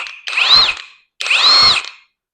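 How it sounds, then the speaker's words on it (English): Impact wrench fitted with a socket removing lug nuts fires two loud, close bursts of about half a second each, each a hammering whir that rises and falls in pitch, separated by a short silence. "we'll put a socket on the end and remove a couple of lug nuts"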